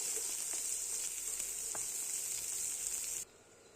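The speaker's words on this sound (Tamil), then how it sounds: "அப்புறம் நம்ம நறுக்கி வச்சிருக்க ஆனியனை போட்டுக்கலாம்" Chopped onions frying in a hot pan for a carrot and beans kootu give a loud, steady, close sizzle that stops abruptly near the end.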